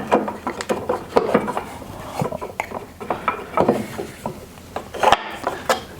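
A wooden clamping block and wedge are set onto a treadle lathe's tool rest by hand, giving a series of close, hollow wooden knocks and clacks at irregular intervals.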